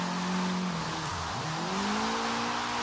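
A Nissan S13 drift car in Forza Horizon 3, on a wet track on race tires, with a steady engine drone that dips and climbs again, continuous and loud with a broad road and tire hiss beneath.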